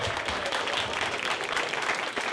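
Applause from a small audience at a meeting held in a fire station, a soft, continuous patter of clapping hands, fairly quiet and distant.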